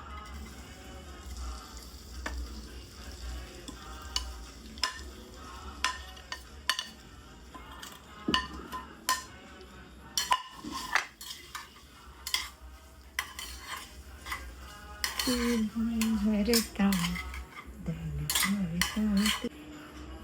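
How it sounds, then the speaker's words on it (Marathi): Raw mango pieces are stirred into cooled oil in a pot for an instant pickle, giving irregular scrapes and clinks of a spoon against metal and a brief soft sizzle, with no one speaking. "आता मी या फोडी ह्याच्यात मिक्स करते."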